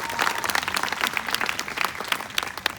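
Student leaders at a summer workshop break into applause, a lively, close burst of many hands clapping in an uneven, dense patter that carries on for nearly three seconds.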